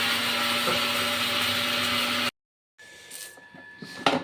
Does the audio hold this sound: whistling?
no